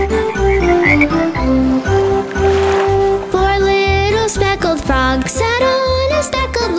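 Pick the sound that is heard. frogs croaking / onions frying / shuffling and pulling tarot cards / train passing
frogs croaking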